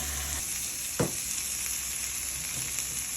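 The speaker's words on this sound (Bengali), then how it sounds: "মশলা কষিয়ে নিচ্ছি" Spices frying down in a pan for a fish curry, a continuous bright sizzle with a single sharp knock of a utensil partway through, no one talking.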